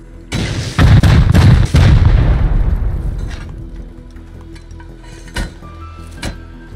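Automated turrets in Rust Console Edition let off a loud close burst of booming shots, then the firing fades into a few sharp, isolated, more distant cracks; no talking.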